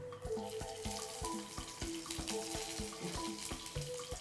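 Curry leaves frying in hot oil in a home kitchen, a close, crisp crackle of rapid pops and sputters that runs steadily with no talking.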